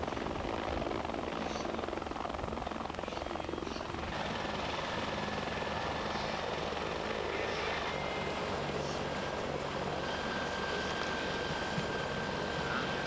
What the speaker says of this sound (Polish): przyleciał do Polski i odleci helikopterami czeskimi